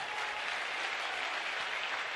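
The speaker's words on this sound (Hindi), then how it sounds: "बिटिया के लिए खूब ताली बजाओ" Steady, dense applause from a large devotional gathering at Bageshwar Dham, a continuous wash of clapping that fills the whole stretch at an even level, with no voices standing out.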